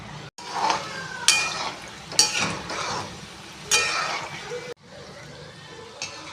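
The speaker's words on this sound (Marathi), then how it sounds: "तेल तापलं आहे, त्यात आपण सगळ्या कापण्या सोडून टाकूया आणि मीडियम फ्लेमवर आपण हे तळून घ्यायचं" Kapani, a sweet Marathi snack, fries in hot oil over a medium flame with a bright crackling sizzle. Several sharp scrapes and clinks of a utensil stirring in the pan sound close and loud.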